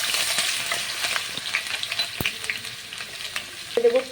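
Chopped garlic sizzles and fries in white oil in a wok, a steady hiss with a few stirring scrapes and a short clink near the end.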